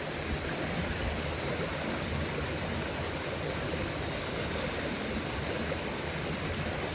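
River water rushes over big rocks in a continuous, even roar of broadband splashing, steady and fairly close with no voices.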